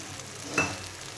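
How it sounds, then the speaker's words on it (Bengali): Soaked drumstick pieces and a splash of water dropped into spices frying in a pan for a potato and drumstick curry, a brief hissing sizzle burst that swells and quickly fades against a low steady background. "তো আমি এখানে ভিজে রাখা সজনাগুলো দিয়ে দেবো, দিয়ে আমি আর একটু জল দিয়ে এটা কষিয়ে নেব।"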